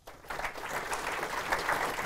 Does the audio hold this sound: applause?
yes